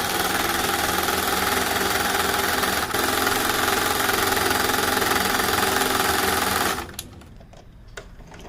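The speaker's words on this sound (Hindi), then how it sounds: "तो इस तरह से सिलाई लगा देनी है" A sewing machine stitches baby cap fabric with a loud, continuous buzzing whir for most of the clip, then stops abruptly, leaving a few light clicks and handling noises.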